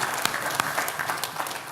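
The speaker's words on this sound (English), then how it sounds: "And I think a round of applause for the fact he does." An audience at a talk on finding and keeping technicians applauds, a dense steady round of clapping with sharp individual claps standing out, heard close and continuing throughout.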